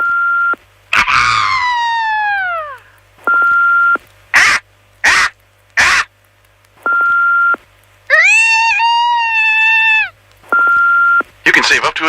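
Several people take turns imitating a bald eagle's call, giving short separate screeches and wavering cries split by silences, interleaved with tone beeps, and each attempt sounds loud and close.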